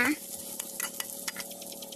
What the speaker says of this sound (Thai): เราก็จะตั้งกระทะใส่น้ำมันพืชลงไป ตามด้วยพริกกระเทียมตำผัดให้มีกลิ่นหอมนะคะ